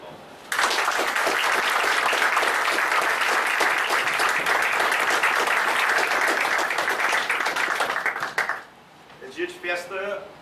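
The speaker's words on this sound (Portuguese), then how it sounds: "eu peço uma salva de palmas" Sustained applause from a gathered audience at a celebratory tribute to a lawyer, loud and dense for about eight seconds before fading out, with a voice starting to speak as it dies away.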